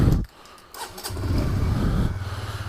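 A Honda CBR motorcycle engine catches after a brief pause, then settles into a close, steady throbbing idle with a rhythmic pulse.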